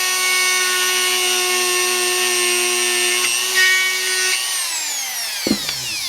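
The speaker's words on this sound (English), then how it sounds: "I've got my little bitty marking here on the carbon fiber shock key, and I've got my Dremel." A Dremel rotary tool whines at a steady high pitch while drilling a hole in a carbon fiber shock key, close and loud. It then winds down with a falling tone and stops, followed by a few small clicks.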